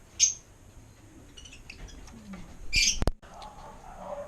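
A few brief, high, thin chirps from pet African lovebird chicks, freshly hatched from their eggs, sound in two short bursts near the start and again later, against a quiet room with faint background noise.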